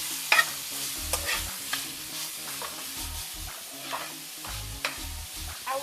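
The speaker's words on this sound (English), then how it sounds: "don't want to not hear your pan sizzle like that." Vegetables sizzle steadily in a hot frying pan, with intermittent scraping and stirring clatter on top, fairly quiet and without any talking.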